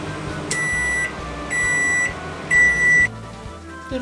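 A microwave oven heating nachos hums while three long, evenly spaced electronic beeps sound clearly over it.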